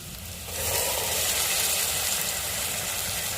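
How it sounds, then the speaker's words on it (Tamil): Grated coconut is added to a pan of onions already well sautéed for a home-cooked South Indian curry. A steady, loud sizzling hiss swells after a brief, quieter start and holds evenly to the end, with no talking. "நல்லா வதங்கி வந்துச்சுங்க தேங்காவை சேர்த்துக்கிறோம்"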